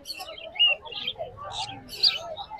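Caged cockatiels in a pet bird shop give short, bright chirps and tweets in scattered bursts, fairly close, over a quiet background murmur.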